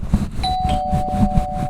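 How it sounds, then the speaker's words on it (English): A doorbell rings once with a clear, sustained electronic tone that rings on steadily, heard close over a faint background murmur. "Ethan, ring the doorbell again."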